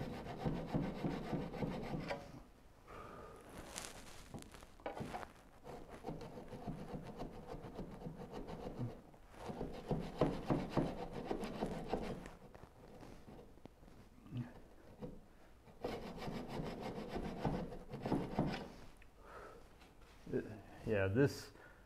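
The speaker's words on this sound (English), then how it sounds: "This part of the sawing takes forever" Steady back-and-forth rasping of a hand saw cutting wood for a Moxon vise, continuing in long strokes with brief pauses, with someone talking intermittently over it.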